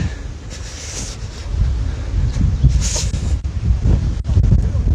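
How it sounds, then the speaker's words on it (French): Strong wind roars against the microphone in heavy, continuous gusts, loud and up close, with a few faint voices underneath, at the start village of the Étoile de Bessèges cycling race. "on a énormément de vent. Le vent souffle très fort"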